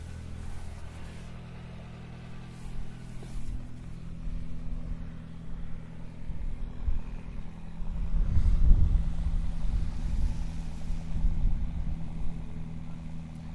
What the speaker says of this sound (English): That's a really, really quiet engine this morning. But she started no problem.